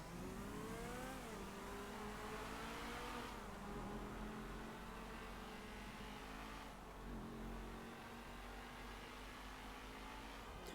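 Engine of a battered, damaged car revving continuously while driving in Wreckfest or GTA 5, with steady loud droning tones that rise and fall through gear changes, no talk.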